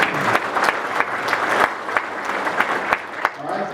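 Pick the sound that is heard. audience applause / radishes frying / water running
audience applause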